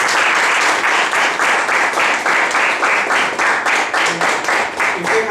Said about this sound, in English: So a round of applause for Toastmasters.